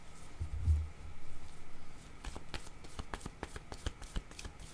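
Playing cards are drawn from a deck in a quick run of crisp flicks and slides, starting with a soft rustle and then sharp close snaps at uneven intervals, with no speech over them.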